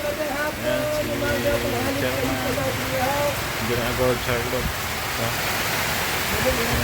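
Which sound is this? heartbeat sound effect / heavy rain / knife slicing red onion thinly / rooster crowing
heavy rain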